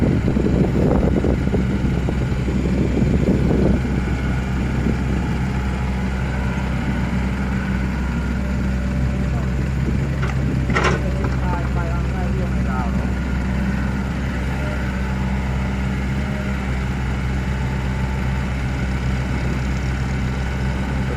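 A LOVOL FR80 excavator with a 110-horsepower engine runs at a steady idle, giving a close, continuous low drone while someone talks over it throughout.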